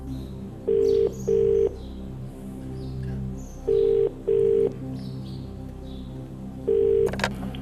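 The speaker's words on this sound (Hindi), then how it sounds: "कृपया फोन लगाइए।" A telephone ringback tone repeats in paired beeps three times, steady and clear over a low background hum.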